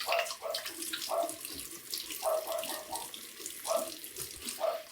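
Tap water runs steadily from a bathroom faucet while a safety razor is rinsed under it, with repeated tonal clinks and splashes as the razor knocks against the sink. The sound is close and moderately loud, with no talking.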